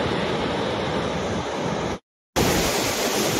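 The Ghod river in Maharashtra runs high after two days of heavy rain, a steady, loud, broadband roar of rushing floodwater with a brief total dropout partway through.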